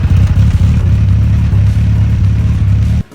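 A Suzuki Hayabusa fitted with Yoshimura RS3 exhausts idles after a cold start. The engine gives a loud, close, deep rumble that holds steady for about three seconds before it cuts off abruptly.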